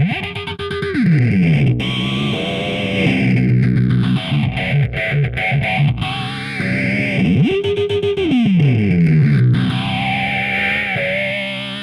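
SlapStick N-100 electric percussion played through the Uber effect, a distortion-like setting, producing big, heavily processed swooping tones with pitch-dropping sweeps and buzzy, echoing layers, loud and continuous with no talk.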